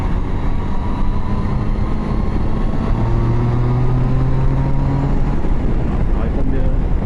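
A 2016 Triumph Tiger Sport motorcycle engine revs high and loud, a continuous rising drone with climbing pitch sweeps over steady wind rush.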